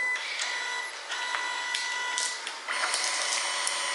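A Kodak portable photo printer runs through a print, a steady close whirring and buzzing of the feed mechanism with small clicks and pitch shifts as the paper moves through, and no talking.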